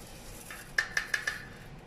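A spoon taps and scrapes four quick times against a mixer jar while scooping in a smoothie ingredient, close and fairly faint, with no voices.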